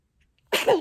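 A single sharp sneeze bursts out close by after a moment of near silence.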